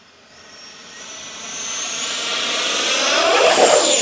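An FMS F-16 Falcon 70mm electric ducted-fan RC jet takes off on its maiden flight, its high whooshing whine swelling steadily louder and rising in pitch as it passes close by, with no talking.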